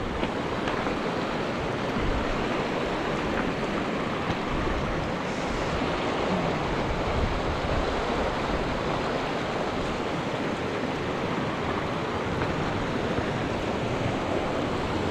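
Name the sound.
river flowing outdoors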